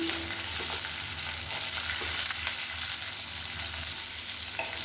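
A handful of small onions fry in hot oil for kara kulambu, a dense, loud, continuous sizzle with faint stirring scrapes, heard up close with no speech.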